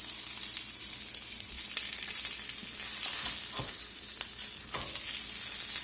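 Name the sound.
salmon fillets sizzling in a pan after turning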